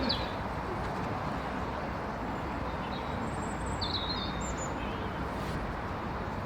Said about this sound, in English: It's lovely that you can hear the birds singing.